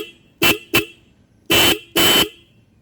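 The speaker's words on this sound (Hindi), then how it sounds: "हमने की इग्निशन पे कर दी है और हम अब हॉर्न चलाने जा रहे हैं।" Minda D95 car horn sounding with the ignition on, two short toots followed by two longer blasts, loud and close with quiet pauses between.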